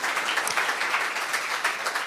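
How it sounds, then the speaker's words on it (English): Audience applause for a sponsor at a startup awards ceremony, a steady dense wash of clapping from a sizable crowd, continuous and fairly loud for the whole stretch with no voices over it. "Good round of applause for KPMG."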